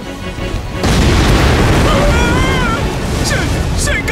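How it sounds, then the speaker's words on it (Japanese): A loud explosion and shockwave from the shoot-'em-up video game Astebreed bursts in after a brief lead-in, then holds as a heavy sustained rumble with faint whistling tones above it. "爆発衝撃波に備えて"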